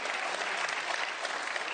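Steady applause from an audience at a political speech about the government shutdown, dense clapping filling the whole moment without pause, fairly close and even in loudness.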